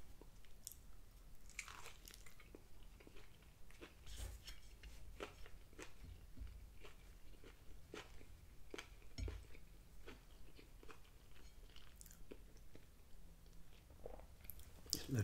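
Close crisp chewing and crunching of lettuce in a Burger King grilled chicken Caesar sandwich, with repeated bites and crunches at a steady rhythm against a quiet background.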